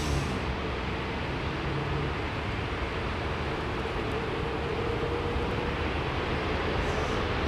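An airplane takes off from a Heathrow Airport runway, a steady, loud broadband engine roar that holds evenly throughout without a break.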